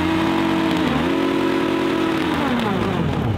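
A motorcycle engine revs close by, dipping briefly and then holding a loud, steady high rev before the pitch drops and climbs again, with no talking.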